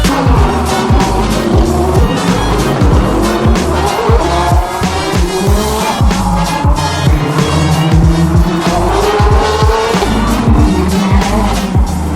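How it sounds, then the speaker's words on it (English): Race cars circle the street circuit at the Long Beach Grand Prix, engines roaring past one after another in loud repeated pass-bys with rising and falling pitch, continuous and close throughout. "So as you can hear, the cars are going around and around in circles"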